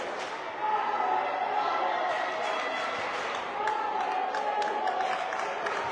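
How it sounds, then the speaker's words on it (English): Crowd noise from fans at a girls' varsity high school basketball game between Tombstone Yellow Jackets and Mojave Patriots, a steady roar of cheering and chatter filling the gym, with a few sharp claps or bangs rising above it. "That's what the fans seem to be cheering for."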